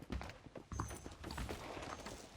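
Horse hooves clip-clop in a Red Dead Redemption game, a quick uneven patter of soft thuds at a moderate distance against a busy background of game ambience, with no talking.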